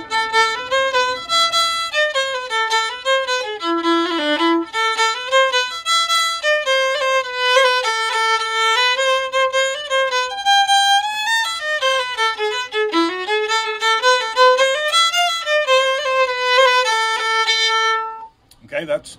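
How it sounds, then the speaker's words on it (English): Solo fiddle plays the Celtic jig Coleraine in a lilting 6/8 rhythm, a continuous run of bowed melody notes that rises and falls, heard up close and loud before stopping abruptly near the end. "That's an example of a Celtic dance form called a jig."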